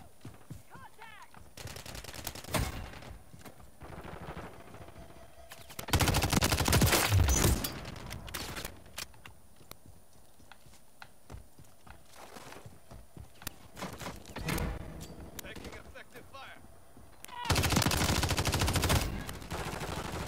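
Renetti pistol gunfire in Call of Duty MW3 on a favela hardpoint map, with sharp rapid bursts of shots in several loud clusters and quieter game ambience and footsteps between them.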